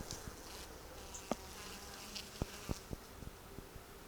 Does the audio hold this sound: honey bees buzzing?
yes